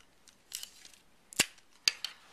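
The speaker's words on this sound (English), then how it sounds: "If you want to, you can mark the bottom and cut that off." Scissors snipping through tape while attaching the sides of a Science Olympiad tower, with a few soft handling rustles, then two sharp, close cuts about half a second apart.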